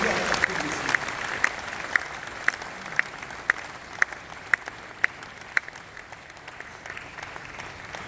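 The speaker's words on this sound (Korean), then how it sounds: "박수 한번 격려 부탁드리겠습니다" A church congregation claps for the choir at a denominational assembly, a sustained, steady round of applause from a large hall with a few sharper near claps ticking through it at a regular pace.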